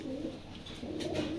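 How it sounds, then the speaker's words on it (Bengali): Pigeons cooing in a loft of pet pigeons, a steady low murmuring coo that rolls on without a break at close range. "আর আমি যেগুলো দেখাই দিই কবুতরগুলা"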